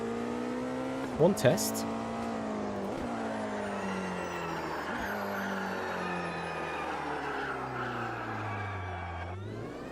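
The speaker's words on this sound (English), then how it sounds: "Nice tire squealing sounds." Simulated race car in Automobilista 2 whines through gear changes with rising and falling engine tones, brief sharp tire squeals near the start, and a person talking over the steady motor noise.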